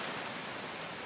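Water rushes at Benki Falls near Kanakapura in Karnataka, a dense, even roar with no pauses, steady and fairly close.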